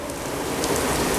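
Steady rain pours down, a dense hiss of drops hitting a surface, with no voices.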